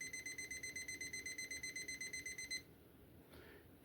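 Rapid repeated electronic beeping from the timer on a BBSA 3.0 silver water kit, a steady run of quick close beeps that stops abruptly, leaving quiet room tone.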